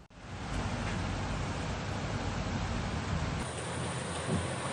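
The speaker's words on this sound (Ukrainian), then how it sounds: "Аномальна злива ринула на Одещину." Heavy rain pours down in a dense, steady roar of broadband noise, constant and loud from start to finish with no voices.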